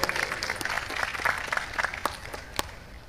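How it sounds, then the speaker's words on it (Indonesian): Audience at a religious talk applauds for Gus Dur, a brief burst of crowd clapping that starts fairly strong and thins out, with scattered individual claps toward the end. "Tepuk tangan untuk Gus Dur."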